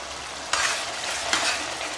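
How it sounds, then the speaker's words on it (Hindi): Chicken for biryani frying and being stirred in a pan with garlic and green chilli, giving a steady close sizzle with two brief louder scraping bursts from the stirring, no voices. "हमारा चिकन फ्राई हो रहा था, देखते हैं"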